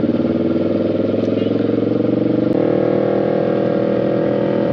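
A motorcycle engine on an expressway near Rosales, Pangasinan, thrums loudly and close as the throttle is twisted, its pulsing note rising and steadying midway with steady wind rush.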